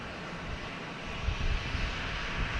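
An American Airlines Embraer E145 jet arriving at Boston Logan Airport, heard as a continuous broad engine roar at moderate distance, steady with slight swells and no talking.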